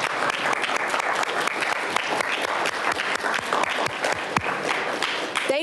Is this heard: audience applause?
yes